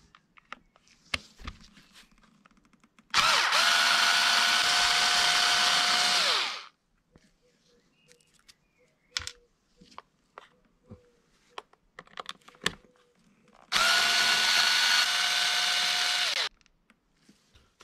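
Two long whirring bursts of a power driver backing screws out of the cover of an X-MAXX RC car, each running about three seconds with steady pitch, between scattered small clicks and handling noises, close and alone.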